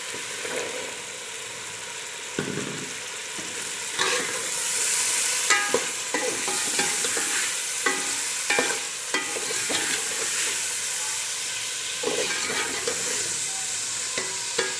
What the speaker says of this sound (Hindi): चनों को अच्छी तरह मसाले में भून लें।